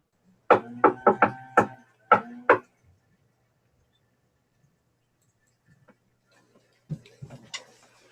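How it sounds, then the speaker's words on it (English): Knocks on a door, close and crisp: a quick run of four raps, a short pause, then two more, followed by faint shuffling and soft movement after a stretch of silence. "Thanks for knocking."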